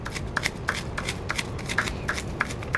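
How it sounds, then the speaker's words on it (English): A knife roughly chops pecans on parchment paper, a quick run of crisp, closely spaced taps and crunches repeating steadily at close range. "I'm gonna go ahead actually and give these a rough chop first."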